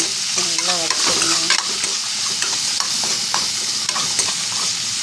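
Onion, tomato and coconut sauté in a pan under an even, loud sizzle, with frequent scraping strokes of a spatula stirring the mixture and a short squeaky scrape early on.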